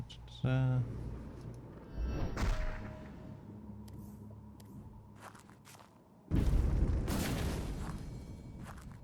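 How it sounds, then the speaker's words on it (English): Explosive crossbow bolts burst in a fantasy video game: a sharp ringing impact, then a dull thud, a lingering rumble, and a second loud blast that trails off, with occasional talk nearby. "Create an explosive area of damage that persists."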